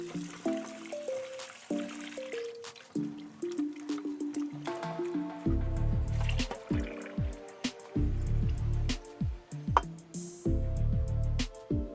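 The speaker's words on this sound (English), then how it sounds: "I'm going to go in and wash all my natural seasoning before I cut them." Fresh natural seasonings such as herbs and scallions are washed under running tap water for an oxtail and bean dish, with steady trickling and splashing, bursts of heavier flow, and occasional drips and knocks in a kitchen sink.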